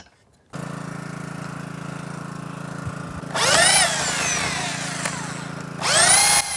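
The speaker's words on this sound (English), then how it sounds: "exert great pressure on the drill to force it into the oak" A power drill bores into oak beside a scaffold bracket, a steady motor hum that surges twice into louder, straining grinding bursts as the bit bites into the wood.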